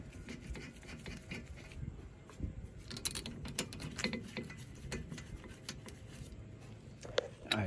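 Rubbing, ratcheting metallic clicks from tightening 14 millimeter brake caliper bolts on a Toyota RAV4's rear brakes, irregular close taps and scrapes with some talking mixed in.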